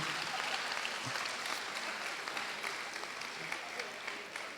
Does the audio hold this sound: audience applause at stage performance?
yes